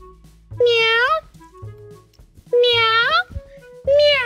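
A person vocally imitates a cat, repeating loud, drawn-out meows in three separate bursts with short pauses between them, set in an indoor trampoline park.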